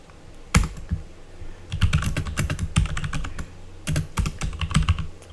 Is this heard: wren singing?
no